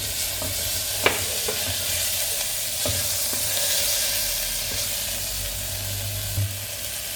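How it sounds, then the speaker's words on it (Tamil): Onion and tomato sauté in a pan with garlic and dried red chillies, a continuous close sizzle broken by a few sharp spoon scrapes and stirring knocks, with no voices. "இப்போ இந்த தக்காளி போட்டு வதக்கணும்."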